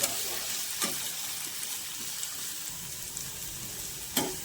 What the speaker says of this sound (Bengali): এবার সবজিগুলো ভাজা হতে দেবো।